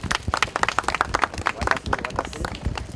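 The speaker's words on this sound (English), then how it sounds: "We can clap for her." An audience applauds a graduate at a university accreditation event with a burst of close, scattered handclaps in an uneven rhythm, with voices talking over them throughout.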